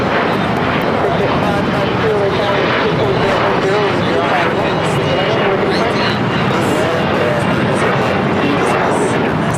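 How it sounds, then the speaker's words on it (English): A Japan Airlines Boeing 787-9 Dreamliner arriving at Los Angeles LAX on a hazy day, a steady loud broadband jet roar that holds throughout, with voices talking over it. "That is Japan Airlines Flight 16 coming in from Tokyo, Haneda on the 787-9 Dreamliner."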